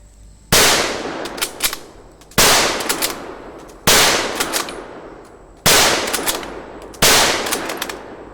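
A World War I Springfield bolt-action rifle fired five times in steady succession about 1.5 seconds apart, each a loud, close, sharp crack with a long echoing decay and faint bolt clatter between shots, no voices.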